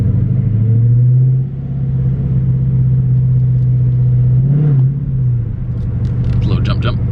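A Dodge Charger Scat Pack idles with a deep, steady V8 rumble, its pitch rising briefly in a gentle rev near the end before settling back, while a voice talks over it close by.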